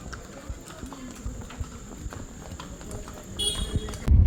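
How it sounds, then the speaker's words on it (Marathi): Horse hooves clip-clop on a hill path in Matheran, a scattered run of light hoof knocks at moderate distance under faint talk and background noise. "घोडे पण घसरू शकतात."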